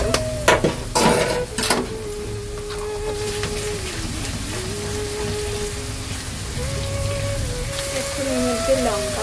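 Chicken rubbed with salt and turmeric fries with onion and garlic paste, a steady close sizzle after a few scraping stirs at the start, with a person talking over it.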